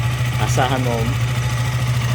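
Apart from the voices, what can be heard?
KTM motorcycle engine starting and idling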